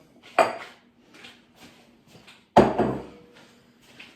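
A bowl clatters against a kitchen counter while chili burgers are being made, two sharp knocks about two seconds apart with faint rattling between, close and loud with no talk.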